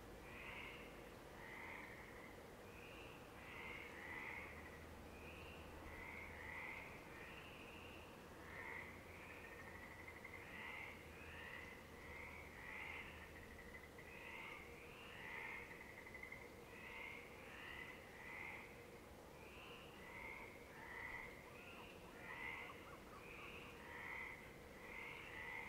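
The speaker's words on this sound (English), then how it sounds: "A village perched above the ocean is gifted with songs of frogs." Many frogs croak at night in a dense, repeating chorus, faint and distant, in a village above the ocean, over a soft steady background hum.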